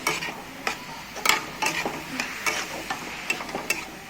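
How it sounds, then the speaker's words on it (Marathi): Cabbage kachori filling being stirred in a hot pan, a soft sizzle under a series of sharp spatula scrapes and taps coming roughly twice a second. "हे बघा असं त्याला परत हलवते मी."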